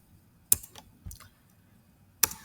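A few scattered keystrokes on a computer keyboard while Java code for a Spring Boot and React chart app is being typed, quiet and close, with long pauses between the clicks.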